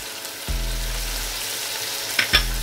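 Chicken frying with garlic in a pan for chicken kabsa, a steady sizzle with stirring scrapes and a couple of sharper clatters near the end, close and alone with no voices.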